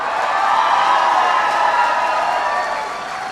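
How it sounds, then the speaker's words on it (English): A town hall crowd in Costa Mesa, California applauds loudly and steadily, a dense wash of clapping with some cheering that holds for about three seconds before easing slightly. "Give the Lieutenant Governor a big round of applause."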